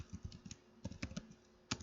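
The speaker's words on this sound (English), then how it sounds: "we're going to type host name" Fingers type on a computer keyboard, quiet, close, irregular clicks in short clusters with brief pauses, no voices.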